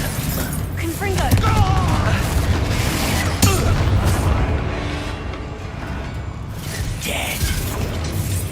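A Confringo fire spell detonates in the video game Hogwarts Legacy as a steady, loud burst of booming, crackling game effects. Voices talk over the sound throughout.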